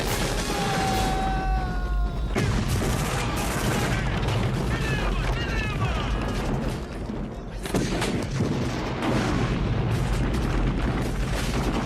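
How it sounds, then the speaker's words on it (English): Heavy booms and blasts roll one after another in the film Predator, thick and rumbling, with dramatic music and whooshing effects layered over the explosions. "The team reaches the insurgent camp and we get an awesome 80s action movie explosions"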